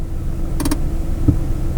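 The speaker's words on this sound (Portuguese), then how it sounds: "vou puxar o freio de mão, acabei de chegar, estacionei" A parked car's handbrake is pulled up, giving a short burst of a few quick ratchet clicks followed by a single dull thunk, heard close over a steady low engine hum.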